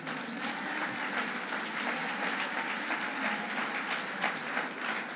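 A church audience claps steadily and fairly loudly at a French-language sermon on faith, a dense even applause lasting several seconds with no voices over it.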